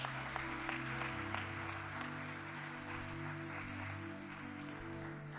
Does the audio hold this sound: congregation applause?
yes